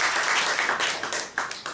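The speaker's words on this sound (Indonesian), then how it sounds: "Tepuk tangan untuk Bapak Ibu sekalian." Audience at a home business presentation gives a short burst of applause, dense clapping from many hands that thins into scattered claps and stops.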